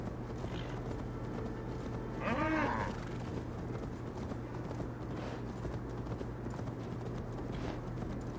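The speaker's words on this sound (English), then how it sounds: "horse" Horse hooves clip-clopping at a steady walk or trot in the Assassin's Creed Valhalla video game, a continuous rhythm set against a constant background hum, with a brief louder sound around the middle.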